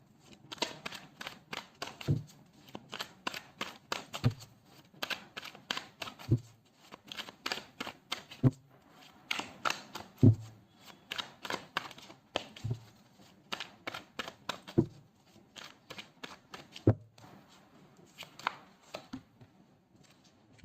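Tarot cards shuffled and drawn, a steady run of sharp riffling clicks and slaps with brief pauses, close and fairly loud, no talking.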